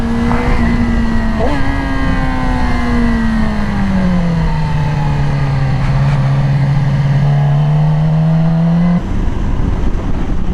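A Yamaha R6 sport motorcycle engine hums and revs steadily up close, pitch dipping and rising through a long run before a brief cut and restart near the end.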